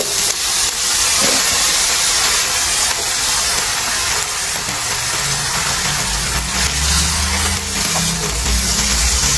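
Potatoes going into hot cooking oil for a corned beef with vegetables dish, giving a steady close hiss and sizzle that holds throughout without talk, with a low rumble rising toward the end.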